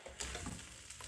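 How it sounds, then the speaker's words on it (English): Rice tossed and stir fried in a hot pan with its ingredients gives a soft, steady sizzle and a few light scraping stirs, brief and fairly quiet. "Just stir fry this very well."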